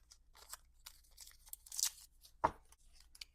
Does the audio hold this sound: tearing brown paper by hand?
yes